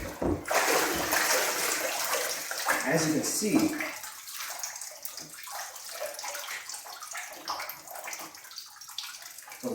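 Bathwater sloshing and splashing as a person rises from a filled bathtub, a loud rush of water early on that settles into softer dripping and trickling, with a person talking over it.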